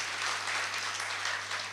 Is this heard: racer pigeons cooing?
no